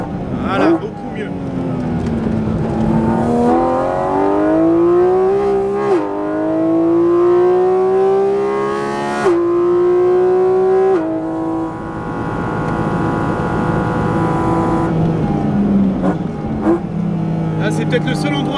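A Porsche GT4 RS engine is driven hard on a track, howling close and loud as it climbs through the revs in repeated rising sweeps, with sharp drops at each gear change and someone speaking over it.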